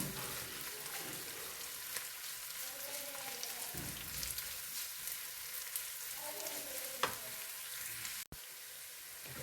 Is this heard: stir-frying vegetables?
yes